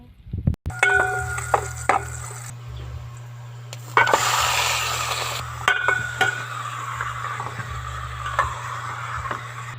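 Garlic and onion sautéing in a pan, a steady sizzle broken by scraping stirs and metallic clanks of a utensil against the cookware, close and fairly loud.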